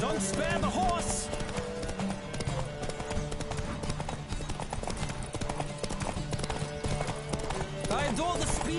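Horse hooves clip-clop at a gallop in The Witcher 3: Wild Hunt, with a steady rhythmic beat running under game music and voices, and a brief whinny near the start.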